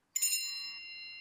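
A phone's chime text tone rings out once: a bright bell-like strike that rings on and slowly fades, heard alone and close.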